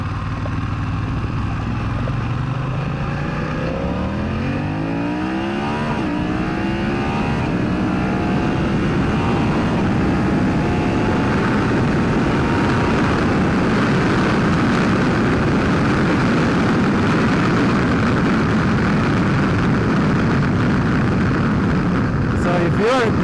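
Steady, loud wind rush and engine drone ride along on a BMW F900XR motorcycle with a Puig touring windscreen cruising at highway speed, a continuous roar that never lets up.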